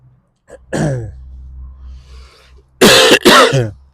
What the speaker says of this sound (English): I've got a bit of a cough at the moment